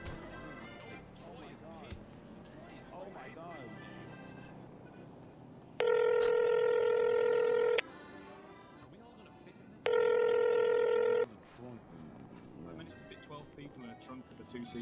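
A telephone in the GTA video game rings in two steady electronic bursts, each about two seconds long and separated by a short pause, while someone talks before and between them.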